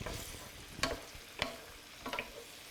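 Veal, pork or chicken scallopini cooking in white wine in a pan, with a soft steady sizzle and a few sharp stirring scrapes of a utensil against the pan, close and quiet, no talking.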